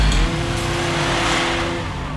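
Car engine revving hard during an off-road drive in a Subaru Forester on a rough track, a loud, sustained roar that holds steady close to the microphone.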